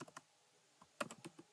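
Typing a SOQL query on a computer keyboard in the Salesforce Inspector tool, quick close key clicks in uneven bursts with a short pause between them.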